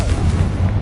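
A Confringo spell exploding in Hogwarts Legacy, a single heavy booming blast with a deep rumbling body that stays loud for the whole brief moment.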